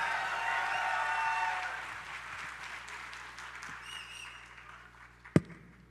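Steady applause from a mushaira poetry audience in Pune fills the opening seconds, then fades out, followed by a single sharp tap or knock.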